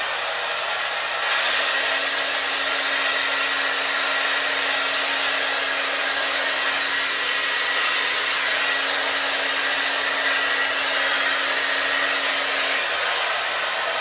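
A hair dryer switches on after a brief pause and blows continuously while hair is blow-dried, a loud, steady whoosh with a constant hum, ending near the close without talk.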